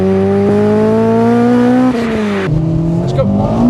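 A Honda Integra Type R (DC5) engine revs hard and climbs in pitch through the gears, loud and close, with a brief gear change dip midway.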